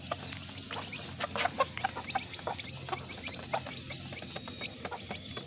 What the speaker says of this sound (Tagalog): Ayan po, ito po nating sisiw.